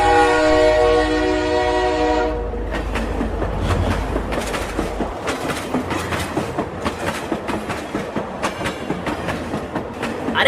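A cartoon train sounds its horn in a long sustained blast, then rumbles along with a rhythmic clickety-clack of wheels over rail joints, growing steadily louder.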